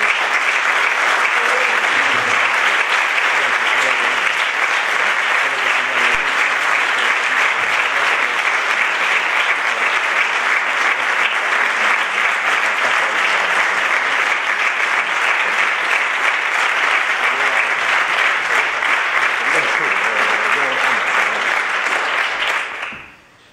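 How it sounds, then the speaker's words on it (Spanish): Audience applauding for the women at a gathering about a genocide trial in Guatemala, dense sustained clapping for over twenty seconds before stopping abruptly. "quisiera que diéramos un aplauso a las mujeres que están"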